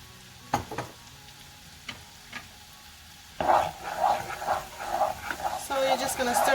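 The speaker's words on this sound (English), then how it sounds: "Just gonna give it a little bit of a stir here." A pan stirred with salt added: a few scattered scrapes and taps, then a louder sizzle of frying with irregular stirring clatter near the end, with talk at times.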